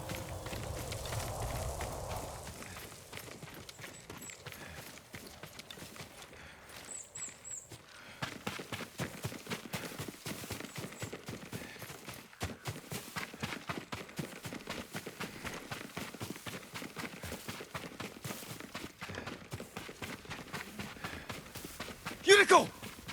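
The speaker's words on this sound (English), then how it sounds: "Yuriko's horse." In the video game Ghost of Tsushima, a horse's hooves clop in a steady walking rhythm, fairly faint and close, continuing for many seconds with some speech nearby.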